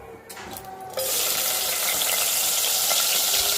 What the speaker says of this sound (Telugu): అవి మనం నూనెలో వేపుకుందాము.